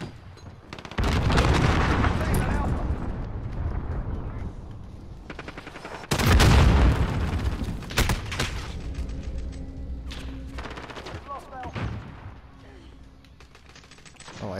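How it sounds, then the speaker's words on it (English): Cruise missile strikes in Call of Duty Modern Warfare, with loud booming blasts, one at the start and another midway, amid scattered gunfire and rumbling debris, and a voice heard faintly. "Enemy cruise missile incoming."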